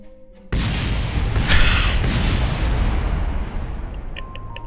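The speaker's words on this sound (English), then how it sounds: "The booster that we're using as a wheel keeps exploding." A rocket booster serving as a car wheel blows up in a sudden loud blast that rolls into a long, dense roar with a sharp burst partway through, then fades toward the end.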